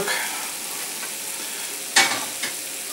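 Trout fries in a pan with a continuous close sizzle, broken by a couple of sharper crackling bursts as the fish is stirred or moved.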